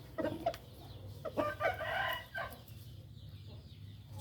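Chickens on a Thai farm cluck in short bursts while a rooster crows nearby, the calls fairly close over a steady low hum of background noise.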